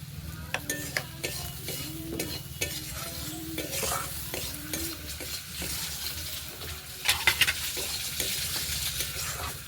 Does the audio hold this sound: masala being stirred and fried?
yes